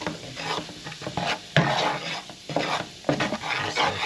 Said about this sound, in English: I'm burning the curry for about 30 seconds.